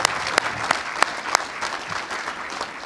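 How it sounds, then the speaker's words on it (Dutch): Applause greets the youth princess and prince of a carnival society in a town council chamber in Almelo: dense indoor clapping from a group, with a few sharp louder claps standing out, steady for about three seconds. "een applaus van iedereen"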